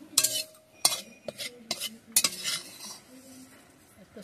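A spoon scoops fried neem flowers out of a pan into a bowl, making several sharp metallic scrapes and clinks close by, then a few fainter taps as the pan quiets.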